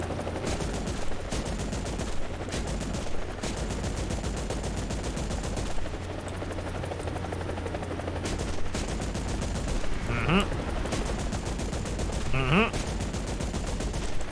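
Helicopter cannons fire in War Thunder gameplay, rapid bursts of gunfire over a constant engine drone, with a couple of whistling sweeps near the end.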